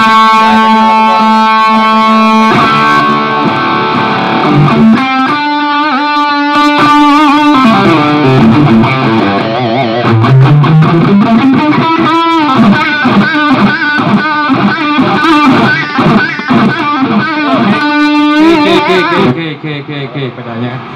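An electric guitar played live through booster and distortion pedals gives loud, sustained distorted notes, sliding bends and rapid runs, continuous and close with a brief pause near the end.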